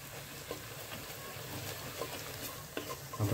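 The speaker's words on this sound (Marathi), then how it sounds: "आता चांगले हलवून घ्यायचं." Onion tomato chutney is stirred in a pan over a steady low sizzle, with soft scraping strokes and a few small knocks, close but quiet, with no voices.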